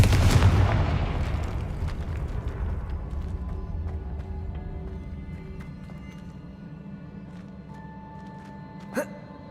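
A Confringo spell explosion in a video game lands as a loud boom at the start and rumbles and fades across the clip. A sharper crack sounds near the end.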